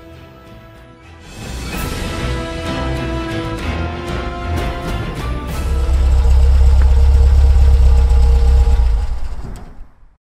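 An overheated car engine idles as a low, heavy rumble that swells loud and steady over the last few seconds, layered beneath dramatic background music.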